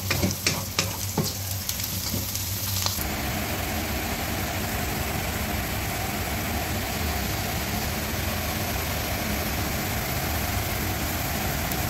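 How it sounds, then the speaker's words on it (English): Onions for vegetable biryani sizzling in a pan: a few utensil knocks at the start, then a loud, continuous frying hiss that holds steady to the end. "Now let's cook these onions until it turns transparent."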